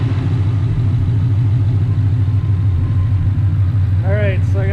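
A pickup engine, Ford Coyote V8, idles steadily after being restarted with no drive shaft fitted, a loud, close, low rumbling drone with a brief vocal sound near the end.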